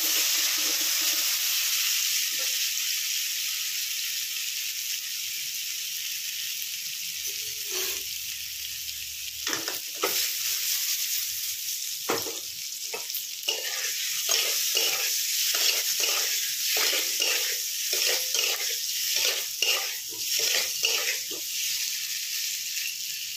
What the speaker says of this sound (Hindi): तो देखो मैं एटा पनीरटा फ्राए करबी